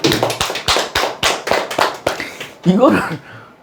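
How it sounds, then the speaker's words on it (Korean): A group clapping in unison at a Korean telemarketing sales seminar, about ten sharp rhythmic claps in steady succession, followed by a brief burst of voices cheering. "박수 한번 치시죠."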